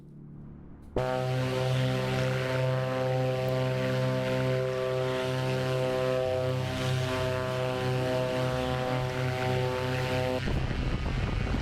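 A Black Square Grand Duke propeller aircraft in MSFS 2024 starts up about a second in. Its engine drone is loud and steady, with a strong harmonic hum that holds evenly throughout before easing near the end.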